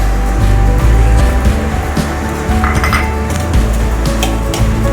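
A spoon scrapes and clinks against a bowl as garlic butter is mixed with chili flakes, giving an irregular run of close, fairly loud knocks and rattles over a low rumbling background.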